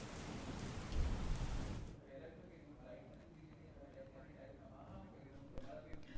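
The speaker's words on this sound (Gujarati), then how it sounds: "ગોધરા સહિત પંથકમાં ભારે વરસાદ ખાબક્યો છે" Heavy monsoon rain pours down over Godhra town in Panchmahal, a dense loud roar of downpour for the first two seconds that then drops to a quieter background patter.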